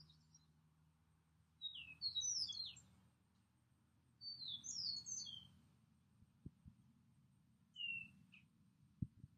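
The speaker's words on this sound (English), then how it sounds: "that loud one was an eastern meadowlark" Eastern meadowlark singing outdoors near a field edge, three loud clear whistled phrases of slurred descending notes separated by pauses, over low steady background hum with a couple of soft knocks.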